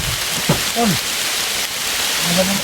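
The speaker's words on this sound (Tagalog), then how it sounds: "malakas yung ulan. lakas ang ulan" Heavy rain pours down steadily and close by in a dense, unbroken hiss, with a few brief voice sounds rising above it.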